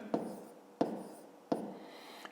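Pen or chalk tapping and scratching on a writing surface in three evenly spaced strokes, close and moderately loud, as a math solution is written out by hand.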